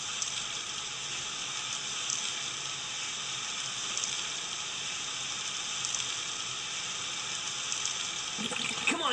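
A watery puddle enemy in the video game Sonic Adventure DX makes a steady, loud rushing and gurgling flow like a running tap, with a brief splash near the end.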